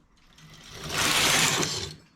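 A knitting machine carriage slides across the needle bed in one smooth, rising and fading mechanical whir lasting about a second, close and clear with no talking.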